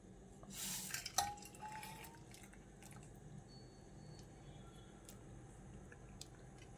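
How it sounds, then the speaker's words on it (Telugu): A herbal tea decoction of green tea leaves, mint, lemon, cardamom, ginger and cinnamon is strained through a strainer: a brief faint pour early on, then quiet trickles and soft drips in a hushed room. "ఇప్పుడు నేను దీన్ని వడగడుతున్నాను"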